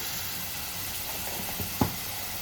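Green chillies and curry leaves hitting hot oil while a Telugu taro-root curry is being cooked, a steady close hiss and sizzle with a couple of small pops.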